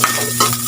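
Fried galunggong fish sizzling in a pan as broth is poured over it, a short bright hiss with bursts of crackle near the start and end, close and fairly loud with no talk.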